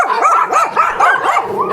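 A dog barking close by during a free anti-rabies vaccination drive in a neighborhood, a quick run of several loud, yipping barks in steady succession.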